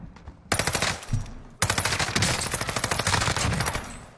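Gunfire in the video game Warzone, loud sustained bursts of automatic fire after a single opening shot, rattling continuously and close up.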